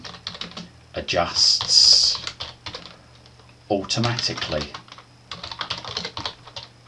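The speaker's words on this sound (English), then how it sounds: "I'm just going to type in there, this is a test to see if the column" Fingers tap quickly on a computer keyboard in rapid bursts while entering text into a spreadsheet, moderately loud and close, broken by pauses, with a person speaking over part of it.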